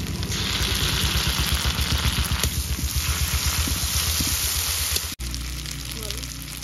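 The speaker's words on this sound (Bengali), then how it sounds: "রসুন ভাজা হয়ে গেছে, এবার আদা বাটা দিয়ে দিচ্ছি" Ginger paste frying in a pan after garlic paste, cooking for chicken kosa: a loud, steady, dense sizzle running continuously, briefly cut near the end before resuming more quietly.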